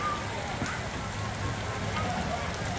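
Steady rain falling outside a restaurant in Da Nang, a dense even hiss of drops that fills the whole clip at moderate loudness, with a voice speaking faintly underneath.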